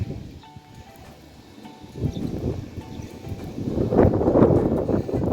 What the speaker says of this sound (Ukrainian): І сьогодні знову вітер.